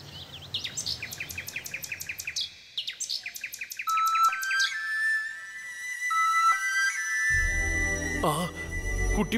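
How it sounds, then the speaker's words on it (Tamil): A nightingale sings in a children's fairy tale, with rapid repeated chirps and bright whistled notes in quick runs, followed by longer sustained tones over a low background hum near the end. "அவருக்கு ரொம்ப பிடிச்ச நைட்டிங்கேல் பாட்டை கேட்டா மட்டும்தான் அவரால் உயிர் பிழைக்க முடியும்."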